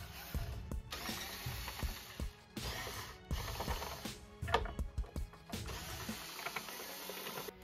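Intermittent ratcheting and clicking of a screwdriver backing screws out of the plastic cover of a JBL PartyBox 710 speaker, close and fairly quiet, in short bursts with brief pauses.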